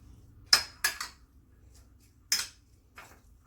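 Utensil clinking and scraping in a bowl while pico de gallo with cilantro and salt is mixed, a few sharp close knocks in irregular bursts with quiet gaps between.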